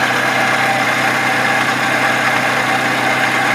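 A 2010-2017 Toyota Camry 2.5L engine idles loud and close with a steady rotating, whirring drone and continuous vibration, without a break from start to finish.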